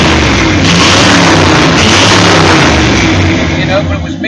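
A restored classic car engine runs loudly and steadily at close range. The idle is full and rumbling, with no clear revving, and continues alone for several seconds.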